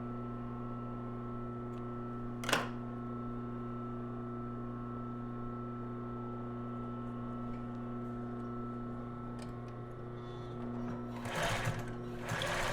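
A sewing machine stitches lace underwear with a steady, humming motor drone and fast regular needle clatter, close and fairly quiet, broken by a sharp click and some brief rustling near the end, with no talk.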